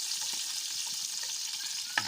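Seasoning, garlic and onion, dropped into hot cooking oil for a Pangasinan dish, a steady close sizzle with faint crackles and a stirring clink near the end.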